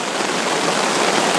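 Heavy rain pours down beside a river during fishing, a dense, steady hiss of drops hitting surfaces with no break, loud and close.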